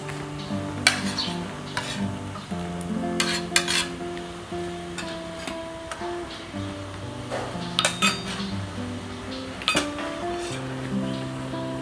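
Kitchen sounds as ingredients for pindang go into a pot of boiling water: scattered metallic clinks and clatters of utensils against the pot over a soft bubbling background, close and moderately loud.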